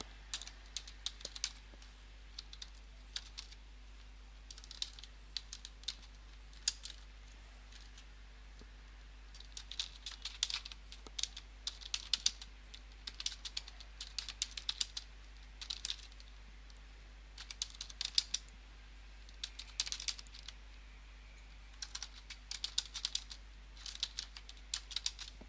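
Someone types on a computer keyboard close by. Quick irregular runs of clicky keystrokes continue throughout over a faint steady hum, with no speech.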